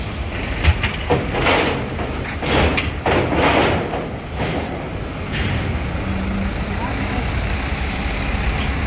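Heavy trucks, including one hauling heavy equipment, rolling aboard a ferry at the port heading for Merak, with rumbling engines and clanking over the ramp, mixed with voices and ambient harbour noise.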